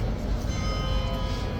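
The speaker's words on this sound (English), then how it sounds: "Here's our 2-minute late bell." A clock bell at Horse Guards in London rings with a steady, sustained metallic tone over loud outdoor crowd rumble, with voices talking nearby.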